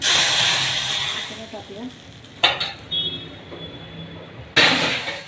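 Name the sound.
dal poured onto hot pan, sizzling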